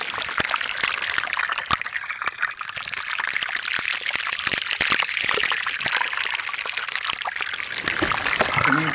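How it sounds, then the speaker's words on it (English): Dense crackling and popping of countless air bubbles escaping from glacier ice melting underwater at a glacier terminus, a continuous fizzing like frying, steady and fairly faint with sharper pops scattered throughout. "Now each bubble produces a pop sound, but when many of these bubbles are coming out randomly over a very large area of the glacier terminus"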